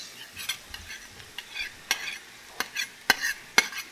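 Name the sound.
peppers frying in a pan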